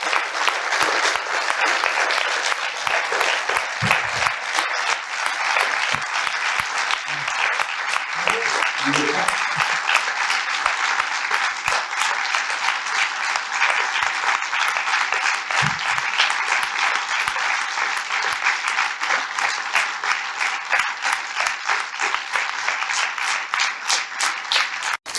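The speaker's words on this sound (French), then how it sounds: "je voudrais vous demander d'applaudir David Giovannozzi." Sustained applause from a conference audience, loud and dense, runs without a break for about twenty-five seconds, with occasional brief voices murmuring underneath.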